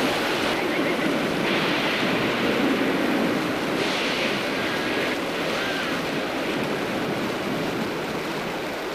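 Ocean waves wash continuously onto a beach, a loud, dense roar of surf with gentle swells and a breezy, windy texture throughout.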